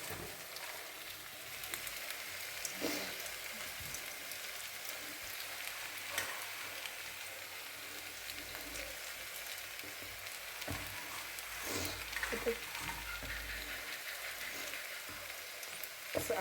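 Kachki fish frying in a pan with onion and turmeric, a steady close sizzle and crackle with occasional stirring scrapes, continuous throughout.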